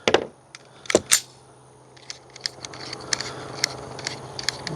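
Suppressed pistol shots through an Anechoic X22 suppressor, several sharp muted cracks near the start followed by a lighter string of quick clicks and pops, moderately loud and close.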